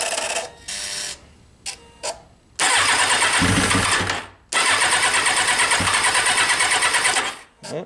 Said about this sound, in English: I'm hoping that it should still fire up.